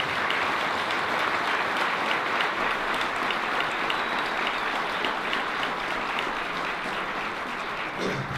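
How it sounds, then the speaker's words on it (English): Audience applause at a school district board of education meeting fills the room, a dense, steady wash of many hands clapping at even loudness for about eight seconds before thinning slightly at the end. "they do deserve one more big round of applause for their awesome"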